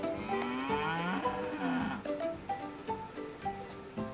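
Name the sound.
Jersey dairy cow mooing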